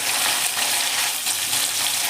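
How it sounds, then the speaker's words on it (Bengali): Rohu fish fillets fry in hot oil over a high gas flame, giving a loud, steady, close hiss of sizzling that runs unbroken throughout. "মাছগুলো কিন্তু হাই ফ্লেমেই ভাজছি, আমি কিন্তু গ্যাস কমিয়ে দিইনি।"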